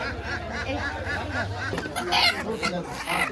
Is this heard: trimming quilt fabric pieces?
no